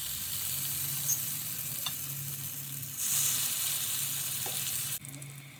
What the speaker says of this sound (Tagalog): Of course, we need to fry our turon.